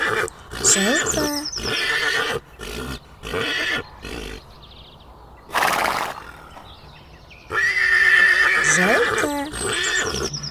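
A horse neighs and whinnies in a series of loud, shrill bursts separated by short pauses, with snorts and a sharp noisy blast in the middle.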